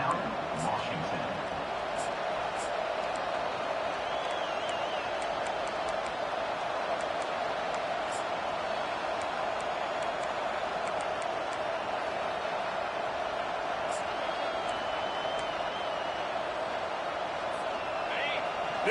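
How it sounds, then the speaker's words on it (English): A stadium crowd in a college football video game gives off a constant, dense roar, steady and loud for the whole stretch, with faint sharp whistle-like cries rising above it now and then. "This crowd bringing the energy and noise early."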